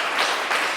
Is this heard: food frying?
no